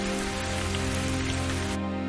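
Heavy rain pours down in a dense, steady hiss that fills the whole moment, loud and unbroken, with no voices.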